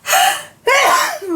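A single close sneeze at a crafting table while a steampunk mini album is being taped together: a quick sharp inhale followed by a loud, forceful burst.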